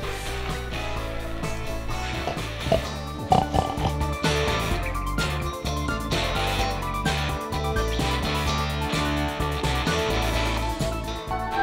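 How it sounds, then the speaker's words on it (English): A recording of pigs plays in an exhibit at Shugborough Hall, giving a steady stream of grunts and oinks set over a dense, even background of sound that lasts throughout. "there's some invisible pigs."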